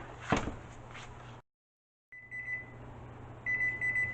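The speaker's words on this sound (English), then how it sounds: "there's the oven beeping" An oven timer beeps faintly after a batch of peanut butter cookies has baked, giving short repeated electronic tones in a quiet kitchen, separated by a brief silent gap.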